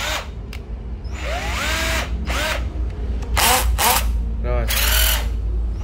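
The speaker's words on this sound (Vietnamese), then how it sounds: "khoan búa này các bạn đó, Makita ha, 14V, máy pin sạc 14V" A Makita 14V cordless three-function hammer drill set to hammer mode revs in short loud bursts, its motor whining up and down between pauses, close to the listener.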